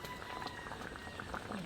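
Skipjack tuna simmering in coconut milk with garlic, onion, ginger and pepper, a low continuous bubbling burble with small pops, faint and steady.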